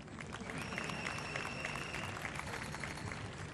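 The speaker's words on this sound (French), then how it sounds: "vous pouvez applaudir, ce n'est pas interdit." Applause from the audience at the closing ceremony of the 2017 Jeux de la Francophonie, a steady wash of clapping from a large crowd filling the whole moment.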